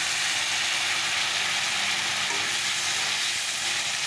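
Cut potato, eggplant and radish fry in hot oil, a dense, steady sizzle that stays loud and continuous throughout, close up and with no talking.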